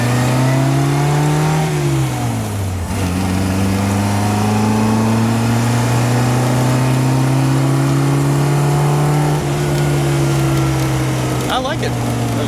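A 1961 Austin-Healey Sprite's small engine revs steadily while driving, its buzzing note dipping once as it shifts and then climbing again, loud and close throughout.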